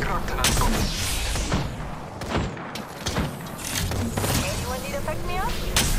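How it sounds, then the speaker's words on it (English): Gunfire hits the player in Apex Legends, a run of loud cracking and booming shots in rapid bursts across the whole stretch, mixed with in-game voice callouts. "I am taking fire, friends."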